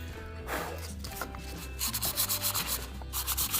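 Steady rubbing and rasping of sandpaper on carved wood with a Celtic weave, sanded by hand, close up, turning into a quick back-and-forth rhythm of short strokes toward the end.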